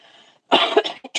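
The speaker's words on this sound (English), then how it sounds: "I still have a cough." A couple of harsh, close coughs burst out one after another, loud against a quiet background, with a short pause before a final cough.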